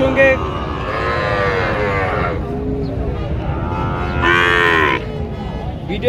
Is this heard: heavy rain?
no